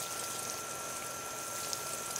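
Diluted fish emulsion fertilizer, one tablespoon per gallon of water, poured to soak the top of container soil for lettuce and greens, a steady close trickle and splash of liquid with no talk.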